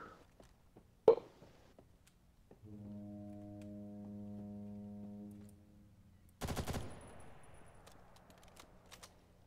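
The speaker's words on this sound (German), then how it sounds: "Ey, du hast mich gerade angeschossen." Gunfire in the shooter Ghost in the Shell First Assault during a one-on-one match: a sharp early shot, a sustained tonal burst of rapid fire, then a loud cracking volley, with quiet gaps between.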